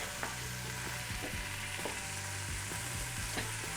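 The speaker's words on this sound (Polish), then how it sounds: "Ależ to dobrze obsmaża." Beef sears in a pan for a mushroom stew, a steady close sizzle with soft hiss and scattered crackles and spatters throughout, with no talking.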